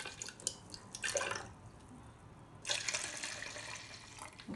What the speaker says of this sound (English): So we'll just pour the rose water into this.